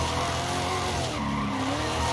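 Tires squealing as a 1000-horsepower front-wheel-drive Honda Civic drag car slides sideways, a loud continuous skid over engine noise, close by with no speech.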